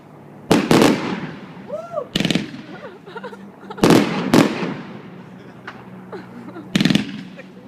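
New Year's Eve fireworks for Silvester 2012/2013 going off in several sharp, loud bangs and crackling bursts, with rising whistles between them and people talking excitedly in the background.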